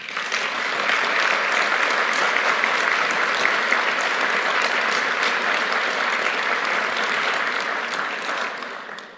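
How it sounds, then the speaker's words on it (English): Graduates and guests at a conferring ceremony in a hall break into loud, sustained applause, a dense wash of clapping from a large crowd lasting about nine seconds before fading slightly at the end. "Give yourselves a round of applause."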